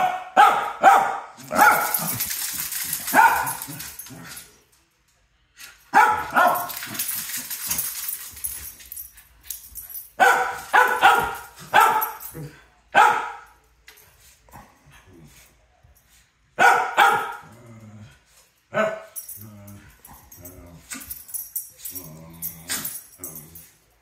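Dogs bark in loud, close bursts while playing, with scattered yips and whines between the volleys and quieter gaps.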